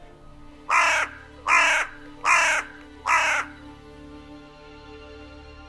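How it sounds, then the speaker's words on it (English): A crow gives four loud, evenly spaced harsh caws about a second apart, close by and alone, followed by quiet. "And the dark-eyed crow seemed to watch my every move."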